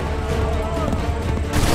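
A musket volley in the video game Assassin's Creed III, a loud dense burst of many shots booming together over battle noise, with a fresh blast near the end.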